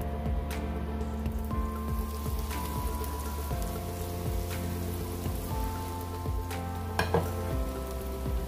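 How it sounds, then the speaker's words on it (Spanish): Tomato, onion and garlic sauté in a pan with a steady, close crackling sizzle and occasional light clicks of stirring throughout. "vamos a sofreír el tomate, la cebolla y el ajo"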